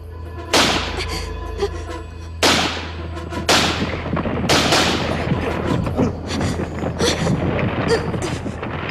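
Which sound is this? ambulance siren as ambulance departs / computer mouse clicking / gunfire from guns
gunfire from guns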